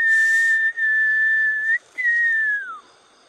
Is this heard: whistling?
yes